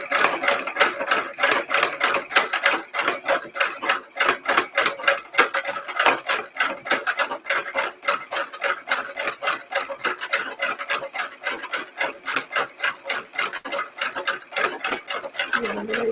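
Sewing machine stitching long lengths of piping, a steady rapid mechanical clatter of needle strokes running continuously and close, loud and unbroken throughout.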